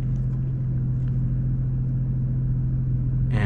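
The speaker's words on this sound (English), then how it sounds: "We got the Cobra axle back, which honestly sounds very, very loud." A 2022 BMW M240i xDrive fitted with a Cobra axle-back exhaust idles with a steady, deep, loud rumble, close and continuous, with a brief rise in the final moments.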